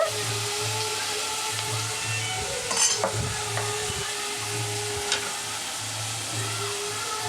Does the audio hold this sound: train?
no